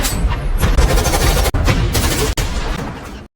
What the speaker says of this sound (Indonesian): 3 petugas bernama Dana, Jack, dan Dilar memutuskan untuk melawan dengan menembaki para perampok